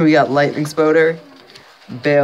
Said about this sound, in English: Oh my god, there's a giant bird outside.